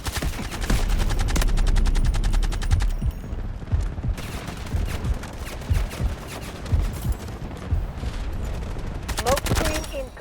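Rapid automatic rifle fire from an AK-12 in the Delta Force shooter game, with dense bursts of shots in the first three seconds, then further loud volleys and gunfire continuing to the end.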